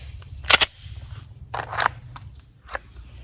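Handgun shots at a shooting practice range, Glock 19 or Staccato C2, with a sharp close double crack early on, then a softer burst and one more faint shot, separated by quiet shuffling.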